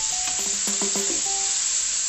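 Pork stir-fried with holy basil, seasoned with fish sauce and sugar, sizzles loudly and steadily in a hot pan for the whole stretch, with faint tonal notes drifting over the constant hiss.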